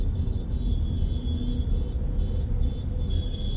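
A car drives up onto a highway near Kestopur on a road trip from Kolkata toward Siliguri, with a steady, loud low rumble of engine and road noise throughout and no talk.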